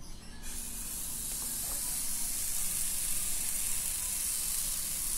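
Pancake batter with chili leaves cooking in a pan, a soft steady sizzle and hiss that swells slightly after the batter goes in, faint and close.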